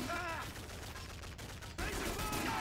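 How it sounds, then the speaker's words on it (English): Sustained suppressing gunfire in MW3 on Wii, a dense continuous burst of automatic shots running the full length with a brief dip midway, fairly loud, with faint game voice in the mix. "I'm putting down some suppressing fire for you, Mike"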